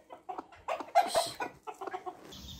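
A few hens cluck and murmur nearby in short bursts while feeding, one louder squawk in the middle, no talking.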